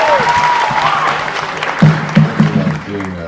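Applause from a comedy magic show audience, fairly close and loud, with a voice talking over the clapping as it continues.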